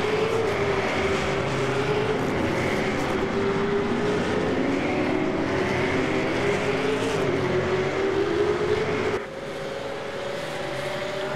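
V8 Supercars race cars in a sim racing game run at the Montreal circuit, their engines screaming in a sustained high whine that rises and falls with gear changes, then dropping suddenly in level near the end.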